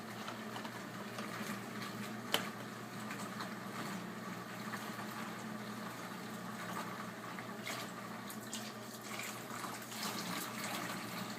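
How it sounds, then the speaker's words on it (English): A kitchen sink fills steadily with water from a tap, producing a continuous low rushing wash with one sharp clink early on, steady and close, with no talking. "I fill up the sink about halfway, maybe 3/4 of the way."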